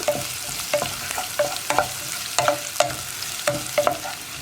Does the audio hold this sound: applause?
no